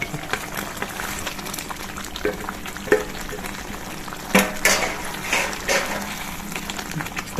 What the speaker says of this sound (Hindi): ये देखिए ग्रेवी हमारी खौल गई है और इसमें हम अपने ककोरे डाल देंगे